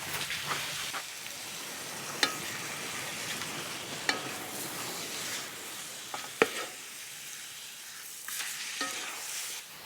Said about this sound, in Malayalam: നീ ഇളക്കിക്കോ മാളു.